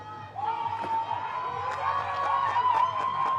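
A stadium crowd at a women's Premiership rugby match between Trailfinders and Exeter Chiefs swells into a sustained cheer as a substitute comes on, distant and broad, with whistles and scattered shouts.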